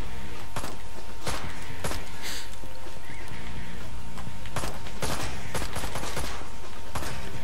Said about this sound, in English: Why is Tuvok trying to shoot you?